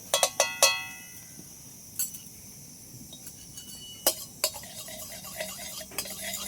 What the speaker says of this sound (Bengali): কড়াইতে এবার দিয়ে দেবো 1 চামচ মতো ঘি দিয়ে দিচ্ছি